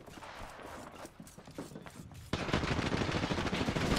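A Devotion machine gun firing in the video game Apex Legends, a steady rapid burst of shots that grows louder and denser partway through, continuing to the end.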